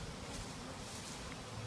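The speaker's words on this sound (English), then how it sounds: "And so now the queen and the bees are in there," Honey bees buzz inside a hive being set up on city property, a faint, steady hum with no talk over it.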